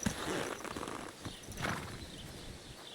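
Horse hooves clip-clop at a steady walking pace in Kingdom Come: Deliverance II, over a busy background, with a brief horse snort partway through.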